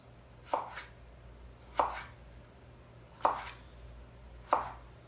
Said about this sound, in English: you slice the matchsticks as fine as you can